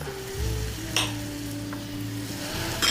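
Frozen shrimp sauté in butter in a pan, with a constant, close sizzle and a couple of brief utensil clinks as they are stirred, over a low humming tone.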